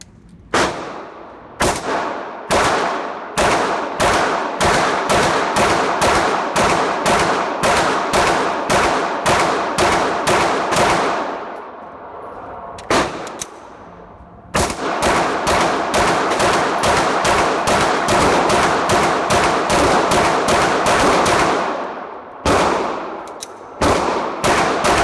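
Glock 17C Gen4 compensated pistol fired at a range at 7 yards, a long string of loud, sharp shots in rapid rhythmic bursts with a brief pause midway and short gaps between strings.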